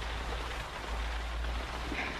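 Steady rain pours as a sound effect in a radio drama of The Secret Garden, a dense, even hiss of falling water that plays continuously with no voices.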